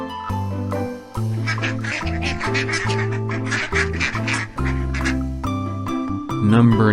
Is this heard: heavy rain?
no